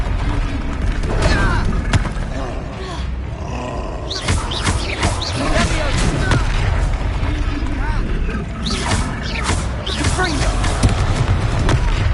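Explosive Confringo blasting spell in Hogwarts Legacy: booming, roaring bursts over dense continuous game noise, with repeated blasts clustered around the middle and end, alongside voices and combat clamor.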